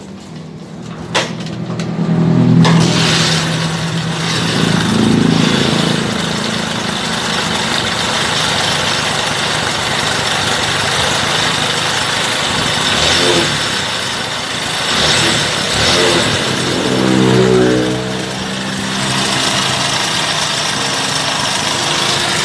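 A Bajaj Boxer CT150 motorcycle engine with a power fault runs steadily for a long stretch, idling with a buzzy rattle and occasional small surges in revs, fairly close by.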